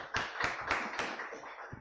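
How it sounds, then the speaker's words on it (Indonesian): Sparse clapping from a small audience of lecturers at a university book discussion, a few distinct, close claps spaced irregularly rather than full applause. "Boleh tepuk tangan biar enggak garing kali ya."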